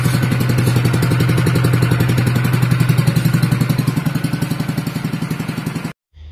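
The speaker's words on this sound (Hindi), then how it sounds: "इंजन का ओरिजिनल आवाज है।" A Honda WB30XD water pump engine pumping out water runs steadily at half throttle, giving a loud, close, rapid chugging idle with a regular firing pulse throughout, then cutting off abruptly near the end.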